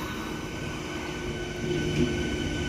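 Trains at Howrah railway station give off a continuous low rumble with wheel and rail noise, and a faint squeal rises briefly toward the end.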